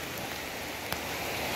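Heavy rain pours onto a road, a dense, steady hiss of falling water with one brief louder tap partway through and no voices.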